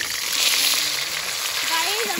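Potatoes frying in a pan, a loud, dense, continuous sizzle up close with no pauses.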